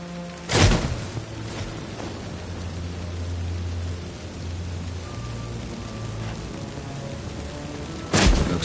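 Steady rain hissing in a fantasy game world, with loud thunder-like bursts near the start and end and a low rumbling hum through the middle, no talking.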